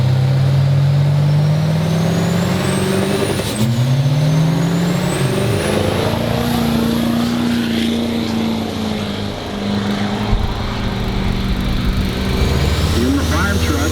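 A fire-truck-bodied racing truck at Rudy's Spring Truck Jam 2021 revs hard and drones loudly, engine pitch climbing and falling as it accelerates down the track, with an announcer talking over the roar throughout.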